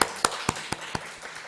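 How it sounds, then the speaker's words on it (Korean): A church congregation claps in slow, even, sharp beats, about four per second, fairly close and with no talk over them. "박수 한번 할까요?"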